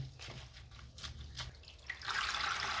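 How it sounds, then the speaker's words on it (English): Washed sweet potato leaves drain in a kitchen, with faint drips and trickles of water at first, then a soft, steady rush of draining water swelling near the end. "And once you're happy with the washing, you drain them."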